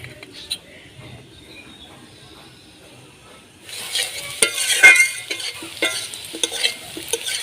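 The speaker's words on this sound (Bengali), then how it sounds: "আলু লাল লাল করে ভেজে নিয়েছি" Potatoes frying in hot oil in a pan for a Bengali niramish dhokar dalna: quiet at first, then a steady close sizzle with scattered stirring scrapes and clinks.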